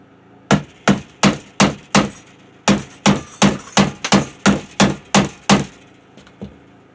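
A hammer strikes a guitar's nut during a curved tri tail tuner guitar build: about fifteen loud, hard wooden thunks in a steady rhythm, each with a short ringing decay, with a brief pause midway and a softer final knock.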